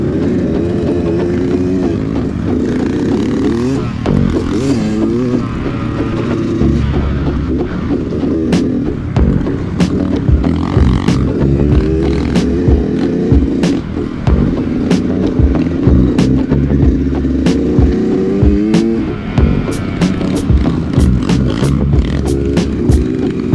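Trail motorcycle climbing a steep slope on a new dirt route near Jasinga, Bogor, its engine revving and straining continuously and loud, with rising bursts of throttle and a deeper rumble joining partway through.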